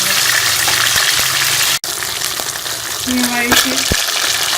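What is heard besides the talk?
fish frying in hot oil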